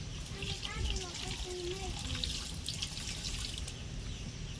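Water trickles and pours into flour for muthiya dough in a village kitchen, a light continuous stream with some speech mixed in.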